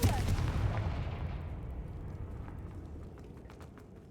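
A Confringo fire spell bursts in Hogwarts Legacy with a loud, low boom at the start, its rumbling blast decaying slowly over a few seconds with scattered crackles and no talking.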